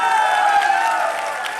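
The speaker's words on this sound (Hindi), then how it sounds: "एक बार श्याम सर के लिए जोरदार तालियां होनी चाहिए।" Loud, dense applause from an audience at a motivational success-story talk, a steady wash of clapping that holds for the whole moment and eases slightly toward the end.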